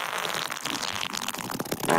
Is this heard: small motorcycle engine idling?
no